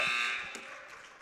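The end-of-quarter buzzer sounds at a girls' high school basketball tournament game at Alexander High School: one loud, sustained electronic buzz that fades over about a second.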